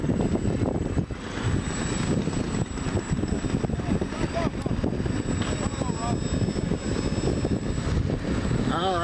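Radio-controlled model airplanes race overhead at an airfield, their engines making a steady droning buzz throughout with a voice talking over it.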